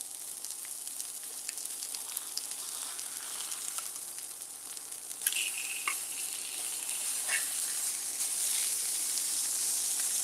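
Burger patties searing on a hot pan give a steady, close sizzle and hiss, with a sharper burst about halfway through as a patty is flipped, then continuing evenly.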